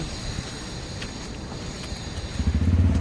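A motorcycle engine rumbles continuously, growing louder and rougher near the end as it revs up close by.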